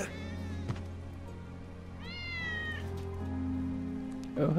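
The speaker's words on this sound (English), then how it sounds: "That's Wedge's cat." A cat in Final Fantasy 7 Remake meows clearly, one long bending cry after a short sharp sound, over a constant low game drone with a steady tone entering afterward.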